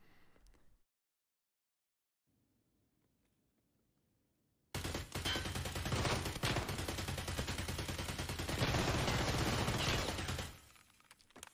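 Sustained automatic gunfire in the video game Escape From Tarkov, a dense rapid burst lasting about six seconds after a near-silent pause, loud and close, then cutting off.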